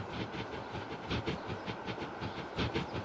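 Trains in Transport Fever 2 roll along with a repeated clickety-clack of wheels over rail joints, steady rhythmic thumps over a low rumble, no voices.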